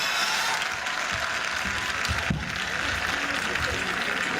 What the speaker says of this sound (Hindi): नितिन जी के लिए जोरदार तालियां